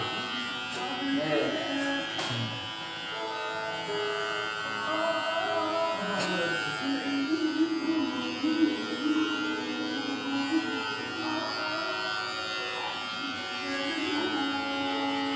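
Electric hair clippers buzz steadily through a haircut at a barber's, a continuous close whine with voices talking over it.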